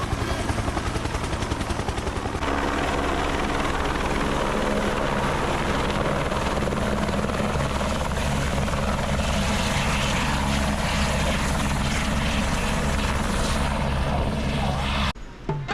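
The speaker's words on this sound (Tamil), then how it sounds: "Helicopter helicopter." A helicopter's steady, loud rotor chop and engine roar fill the whole stretch near Ghangaria on the Valley of Flowers trek, continuous and close, cutting off abruptly at the end.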